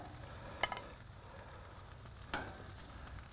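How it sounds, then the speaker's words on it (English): Strip steaks sizzle on a hot Weber grill, a quiet steady hiss broken by two brief louder crackles, with no voices. "You want to see a good amount of sizzle and smoke."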